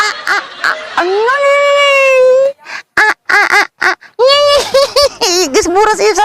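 A person imitates a duck quacking with loud, nasal, drawn-out honking calls and short bursts close to the microphone, mixed with other voices.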